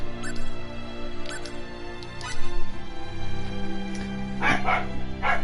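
A dog barks nearby in a home, several short sharp yips and barks scattered over a steady background of video game music, with a louder burst of barks near the end.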